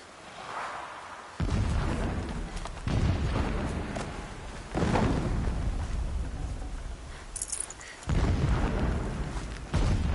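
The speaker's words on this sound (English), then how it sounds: "Explosions in the distance." Deep, rumbling booms roll in from far away in the game Horizon Zero Dawn Remastered, several heavy blasts arriving one after another in separate waves, each swelling loudly and then fading into a low, continuous rumble.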